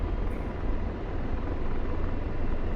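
A constant loud Apache attack helicopter engine roar in a video game, with broadband rotor noise, steady and close throughout, no talking.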